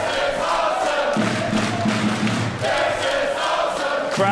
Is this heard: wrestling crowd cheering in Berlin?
yes